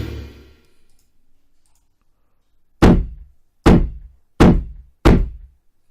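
Four deep, punchy kick drum hits from sample software ring out alone and loud after a quiet start, each a sharp thump with a short decaying boom, spaced roughly evenly.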